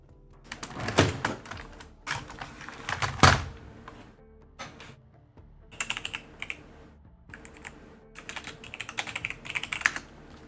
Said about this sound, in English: My keyboard's falling apart